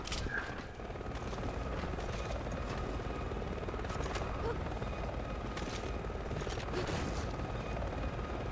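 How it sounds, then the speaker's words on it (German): Continuous loud rotor chop and engine roar of a helicopter in the video game Resident Evil 6, steady throughout with scattered sharp cracks like impacts or gunfire mixed in. "Wie der Zombie von dem Hubschrauber getroffen wird."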